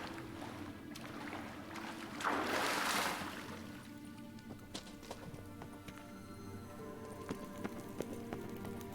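Hooves of Kelpie, Geralt's horse in The Witcher 3, clip-clop in a steady gait over an ambient game soundscape, with a brief louder whoosh early on and no talking.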